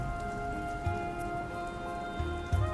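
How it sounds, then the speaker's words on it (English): Steady video-game rain patters down on a surface, an even hiss of drops with a low sustained hum underneath. "It's raining anyway."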